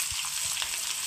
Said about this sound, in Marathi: कांदा गुलाबी हलकासा रंग येईपर्यंत परतवून घेऊ।